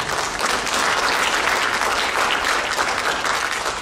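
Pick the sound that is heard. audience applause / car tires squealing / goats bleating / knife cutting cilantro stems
audience applause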